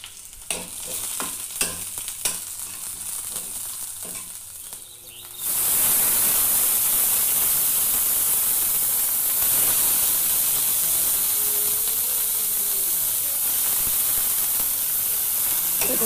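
Onions hit a hot pan and break into a loud, continuous sizzle after a few soft clatters of the pan and utensils, with no talking over the frying.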